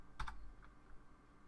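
Two quick keystrokes on a computer keyboard while typing a Minecraft chat command, close and crisp, followed by quiet room tone.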